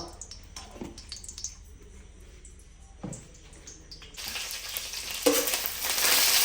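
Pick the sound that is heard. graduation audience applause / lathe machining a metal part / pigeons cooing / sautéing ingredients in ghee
sautéing ingredients in ghee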